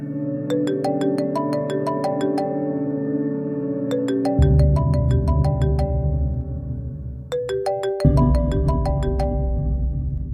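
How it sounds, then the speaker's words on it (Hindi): A phone's ringtone plays loudly as a repeating melodic tune of bright chiming notes, cycling through the same phrase several times over a bass backing. "आखिर किसका फोन है?"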